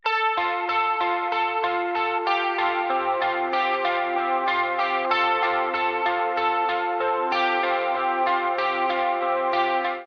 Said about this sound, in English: I made a super bright, chorusy sounding guitar